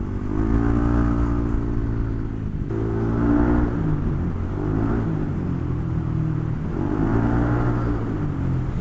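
Vehicle exhaust drones in slow city traffic in Cubao, a deep, loud, close engine rumble that swells with revving surges every couple of seconds over steady road noise, with no voices.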